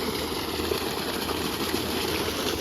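Steady, dense rush of water pouring forcefully from a solar-powered submersible pump's pipe, a continuous broadband gush with a faint low hum beneath, no voices.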